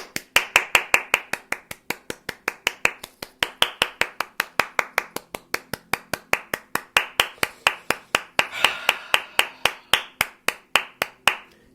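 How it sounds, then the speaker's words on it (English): One person clapping hands loudly in a steady, even rhythm, dozens of sharp close claps in a row with a brief flurry near the end, rather than a crowd's applause. "My version, as a Nigerian American, is to give you a loud ass round of applause"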